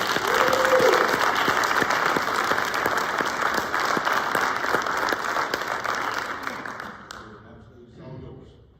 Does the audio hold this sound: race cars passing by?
no